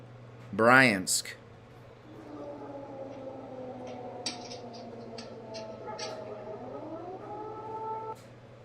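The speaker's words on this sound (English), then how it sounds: "Air raid sirens going off in Bryansk." Air raid sirens in Bryansk, Russia: a long, rising and wavering tone carries on steadily in the background after a brief burst of noise at the start.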